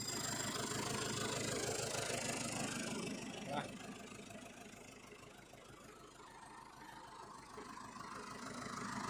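Turbocharged Ford tractor engine idling, a steady mid-to-low mechanical rumble with a fairly even throb, slightly louder at first, dipping in the middle, then building again toward the end.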